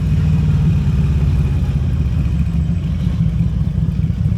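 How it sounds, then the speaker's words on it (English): A Harley-Davidson Road King 100th Anniversary Edition motorcycle engine runs steadily with a low, continuous rumble during slow riding, loud and close with no talking. "I'll let you hear the engine a little bit, because it's only the slow bits you can hear the engine easy without being clipped."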